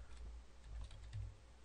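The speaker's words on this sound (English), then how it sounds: "Let's just type it in root desktop." Quiet, fast tapping on a computer keyboard as a short line of text is entered, the light keystrokes running close together over a low background hum.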